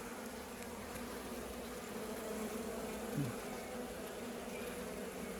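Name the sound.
honeybees in an open hive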